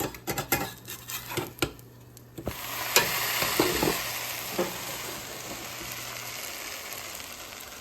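A grilled cheese sandwich sizzles in a hot skillet, with a steady frying hiss and a few clinks and scrapes of a utensil against the pan, fairly quiet.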